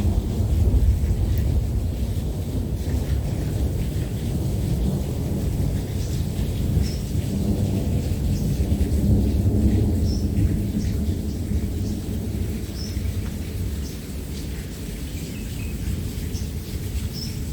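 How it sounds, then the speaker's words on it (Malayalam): Thunder rumbles deep and long through a heavy rainstorm in Ajman, rolling steadily under the constant hiss of rain, with faint bird chirps now and then. "പക്ഷേ ഭയങ്കര ഇടിയാണ് നിങ്ങൾക്ക് കേൾക്കാമല്ലോ"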